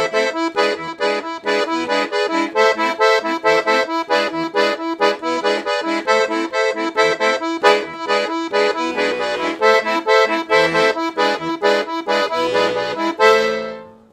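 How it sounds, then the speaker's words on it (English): Piano accordion plays a full two-handed samba pattern, dense reedy chords over bouncing bass notes in a driving syncopated rhythm, loud and close, fading on a final held chord. "Now if we put both hands together for the full pattern,"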